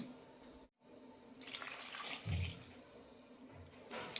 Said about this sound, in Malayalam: കഷ്ണങ്ങൾ വേവാനുള്ള വെള്ളം ഒഴിക്കാം